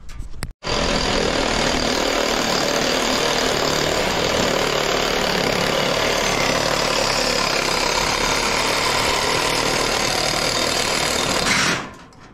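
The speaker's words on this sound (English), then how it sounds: "Pull my sawzall out real quick." A reciprocating saw cuts scrap metal in a scrap yard, a loud, unbroken, harsh buzz that runs for about eleven seconds and then cuts off.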